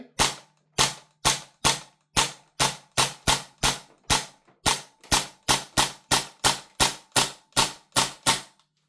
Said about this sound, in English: first we're going to fire some semi shots and see how it does